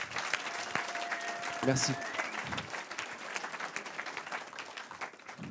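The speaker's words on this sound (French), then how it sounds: "On les applaudit bien fort s'il vous plaît." Audience applauds at a Corewar programming championship, a broad steady wash of clapping from a seated crowd with an announcer's voice over it near the start.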